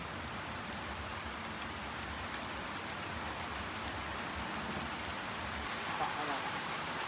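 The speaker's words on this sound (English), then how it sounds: "It was so peaceful in the rain." Steady rain falls in the Cambodian countryside, a soft, even hiss of drops on surfaces that stays constant and fairly faint throughout.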